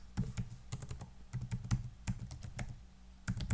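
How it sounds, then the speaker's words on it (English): Quick, uneven clicks of a computer keyboard being typed on at close range, coming in short irregular bursts with brief pauses between them, and no voices. "Then I'm going to stop typing"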